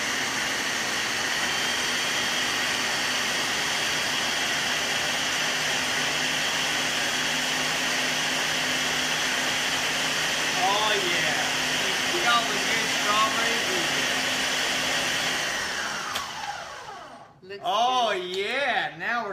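An electric mixer beats frozen strawberry cheesecake filling with a steady loud whine that runs nearly unbroken, then cuts out near the end. Voices speak over it.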